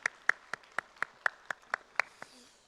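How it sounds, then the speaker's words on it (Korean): A church congregation claps in a steady rhythm, about ten evenly spaced sharp claps in unison, close and clear against a quiet room before fading out. "우리 주님께 영광의 박수 올리겠습니다."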